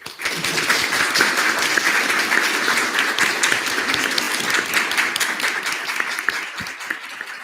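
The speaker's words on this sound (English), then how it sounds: "They say you're supposed to clap until the person gets to the mic" Audience at a student government senate meeting applauds steadily as a guest walks to the microphone, a dense, even clapping that carries on for several seconds with little else heard.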